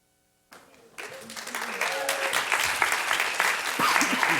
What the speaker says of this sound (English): please hold your applause as we go through this